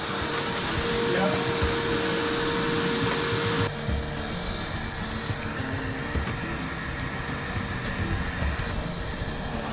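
A steady, loud whirring drone of a vacuum cleaner picking up sawdust runs throughout, with a brief whine early on and some muffled clatter underneath.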